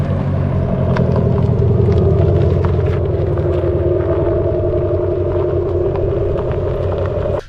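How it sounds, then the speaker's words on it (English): A 2023 Abarth 500e electric car's exterior sound generator gives a steady, droning synthetic hum with layered tones, continuous and fairly loud throughout, with a soft rumble underneath. "It's got sound generators on the outside."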